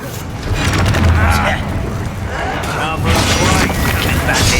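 A Descendo spell from the Hogwarts Legacy video game slams an enemy to the ground, heard as heavy booming, crashing impacts among dense battle effects and a low rumble, with a voice talking throughout.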